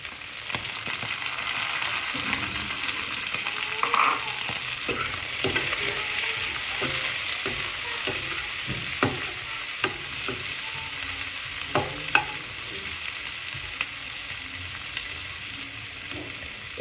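Chicken gizzards fry in a hot pan with a steady sizzle, while a spoon scrapes and stirs them in irregular clicks and knocks, close and moderately loud, without any talking.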